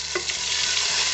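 Grated ginger and tomatoes go into a hot frying pan for a vegetable khichuri, giving a steady, close sizzle with a couple of soft stirring scrapes and no talk.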